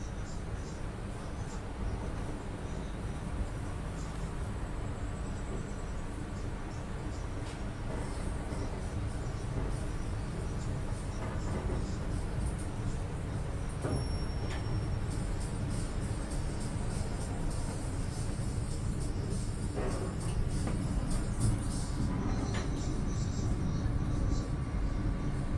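Mutiara Timur passenger train pulling out of Probolinggo station at night, heard from inside an economy carriage as a continuous low rumble and rolling drone with faint clanks, steady and loud for the whole stretch.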